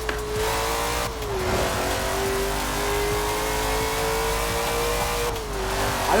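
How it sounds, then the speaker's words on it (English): A 1964 Ford GT40 Mk 1 engine revs hard in a Forza Horizon 4 race, a loud continuous mid-pitched roar with rising and falling pitch sweeps as it accelerates and shifts. "I have the volume up so you guys can hear the engine and stuff"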